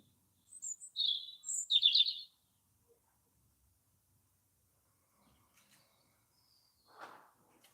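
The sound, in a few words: birds singing in the garden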